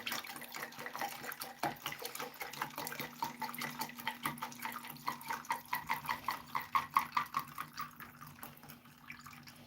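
Water runs from a tap in a garage, a steady close splash and gurgle with a faint underlying hum, rising into rhythmic sloshing pulses toward the end; no one talks.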